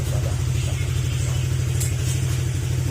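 A freshly overhauled Honda Click 125 scooter engine runs close by with a loud, steady low throb and no pauses.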